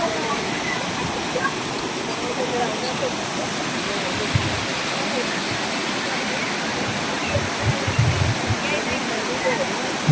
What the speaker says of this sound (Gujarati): મિત્રો નદી ચાલુ જ છે, પાણી આવે છે, જોઈ શકો તમે।